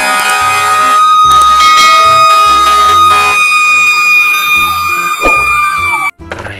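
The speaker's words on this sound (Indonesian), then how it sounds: "masih ada mobil pemadam kebakaran." A toy fire engine's electronic siren wails loudly and continuously in bright, buzzy tones for about six seconds before cutting off abruptly.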